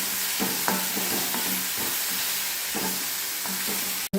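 Sliced okra roasts in a hot pan with turmeric until its sliminess cooks off, sizzling steadily while a spoon stirs and scrapes in quick irregular strokes close by, with no voices.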